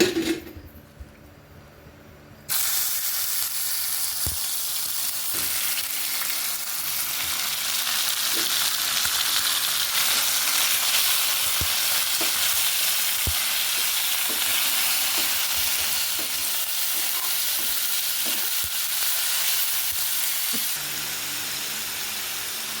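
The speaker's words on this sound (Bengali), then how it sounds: "ম্যারিনেট করা মাংসগুলো আপনারা এখন ভেজে নেবেন।" Marinated meat frying in a pan for a pizza topping, a steady loud sizzle and hiss lasting throughout, with occasional stirring clicks and scrapes; no talk.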